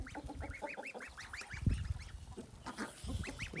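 A flock of geese honks repeatedly and close by, overlapping calls in a noisy chorus with some lower grunting sounds.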